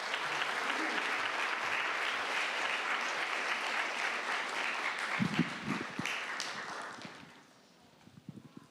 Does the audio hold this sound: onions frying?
no